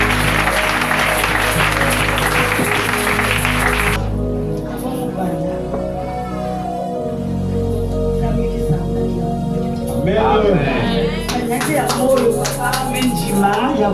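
A church congregation cheers and applauds loudly at a revival service, a dense wash of clapping and shouting that drops away after a few seconds, with a preacher's amplified voice continuing over music.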